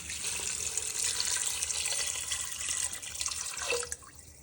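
Water pours into a cooking pot in a steady, full rush for about four seconds, then tapers off and stops.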